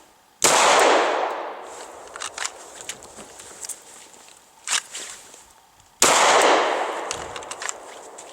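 Two loud, close pistol shots from a Glock 23 Gen 4 with a Trijicon RMR red dot, fired at a target several seconds apart, each with a sharp crack and ringing decay, light clatter and movement between.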